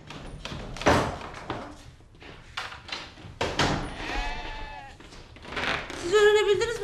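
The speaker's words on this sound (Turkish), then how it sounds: "görebildiniz mi Kadriye Hanım bu koyunların okulun bahçesinde ne işi olduğunu" Sheep bleat in a school yard: several loud, wavering calls, mostly in the second half, with a few thumps and faint background noise earlier.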